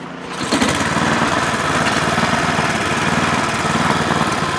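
A snow blower clearing a snowy driveway during a blizzard, its small engine starting up and then droning steadily and loudly up close, with no talk over it.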